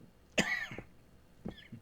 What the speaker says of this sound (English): individuals that put up with my coughing